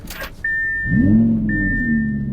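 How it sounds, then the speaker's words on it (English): A car engine in a video game starts with a quick crank, then settles into a steady, smooth idle and rises into a brief rev, loud and close with no talking. "I'm gonna start the car up"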